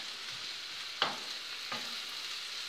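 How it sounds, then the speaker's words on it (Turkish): Onion and peppers sautéing in a pan for Turkish menemen, a faint, steady sizzle with two brief sharp stirring clicks, no voices. "bu soğanı biraz kavuracağım. Biberimi koyuyorum"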